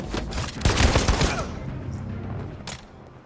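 A burst of rapid gunfire in Detroit: Become Human, a loud cluster of shots with a short crackling tail, then one fainter shot, and no talk over it.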